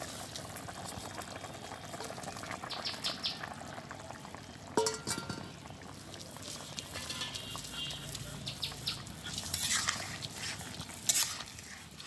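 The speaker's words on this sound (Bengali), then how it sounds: "আমি এখন তরকারিতে মাছ দিয়ে দিচ্ছি।" Pumpkin curry with small puti fish bubbles in a pot over a village cooking fire, a soft continuous simmering hiss with occasional splashes and stirring clatter as the fish goes in, fairly quiet throughout.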